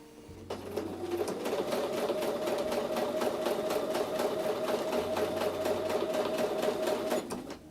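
A sewing machine stitches a quilted Christmas table runner, running steadily at a fast, even rhythm for several seconds before stopping, close and clear with no talk.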